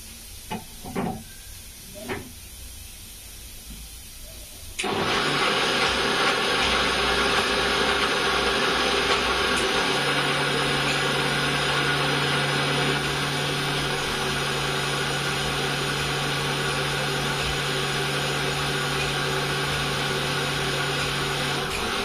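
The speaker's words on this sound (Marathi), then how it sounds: "मिक्सर मधून काढून घ्यायचं आहे, एकदा फिरवून घ्यायचं आहे." A mixer grinder kicks on a few seconds in and runs loudly and continuously, blending rava cake batter with a steady whirring roar. A few soft knocks come before it starts, and no one talks.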